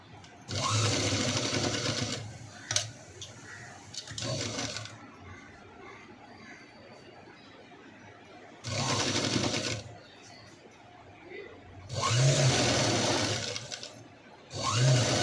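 A sewing machine stitches the front of a princess-cut V-neck blouse in four loud whirring bursts of a few seconds each, with quieter pauses between them where a voice may be heard faintly.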